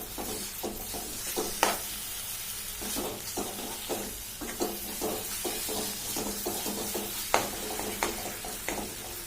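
A ground paste of onion, coconut, ginger and coriander spice mix is stirred in a pan, giving a soft steady sizzle with scattered scrapes and taps from the spoon, fairly quiet and close, with no talking.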